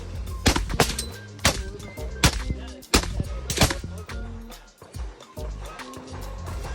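Suppressed 5.56 rifle shots through a dedicated Sierra 5 suppressor at an outdoor shooting gathering, a rapid string of sharp cracks, roughly eight to ten in under seven seconds, close and loud with background chatter between shots.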